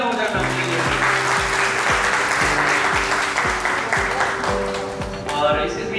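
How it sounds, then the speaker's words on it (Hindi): Loud, sustained applause from an audience at an achievers award ceremony fills the whole stretch, with a steady rhythmic music track playing underneath. "एक बार जोरदार तालियां हो जाए मैम के लिए।"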